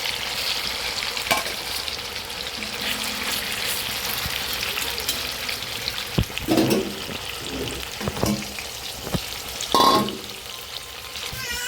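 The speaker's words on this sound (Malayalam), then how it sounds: "അപ്പം നമ്മൾ ചിക്കൻ ഇവിടെ ഫ്രൈ ആയിക്കൊണ്ടിരിക്കുന്നു" Chicken fries in a pan with a loud, continuous sizzle and crackle, broken by a few sharper scraping stirs.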